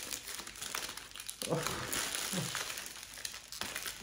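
Foil wrapper of a 150-gram chocolate Easter egg crinkled and torn open by hand, with loud bursts of rustling and crackling close by and a person speaking briefly between them.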